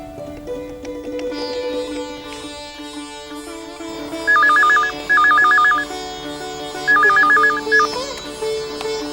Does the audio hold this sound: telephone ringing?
yes